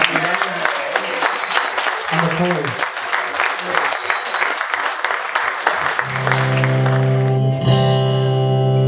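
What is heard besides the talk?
audience applause for a speech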